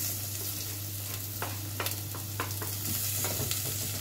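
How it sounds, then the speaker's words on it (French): Onion and garlic fry in olive oil in a sauté pan, a steady close sizzle with scattered scrapes and clicks of stirring, no talk. "Faites chauffer un filet d'huile d'olive dans une sauteuse et faites-y revenir l'oignon et l'ail 3 à 4 minutes."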